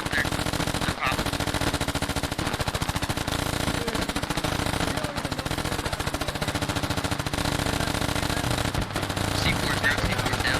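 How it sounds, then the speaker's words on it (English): Sustained machine gun suppressing fire in the video game Squad, a loud, relentless rapid stream of shots with only brief pauses, dominating the whole stretch. "Charlie here, laying down some suppressing fire."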